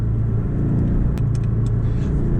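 A steady, low engine rumble heard from inside a moving Porsche 718 Boxster GTS mid-engine sports car, constant and unchanging, with no talking.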